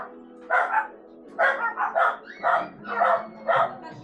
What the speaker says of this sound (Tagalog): Dito may mga aso pala rito.